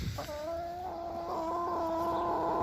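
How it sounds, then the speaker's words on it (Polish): Young hens with clipped flight feathers call in a steady, drawn-out tonal clucking. The sound is close, continuous and moderately loud over faint background hiss, with no talking. "O, kureczki."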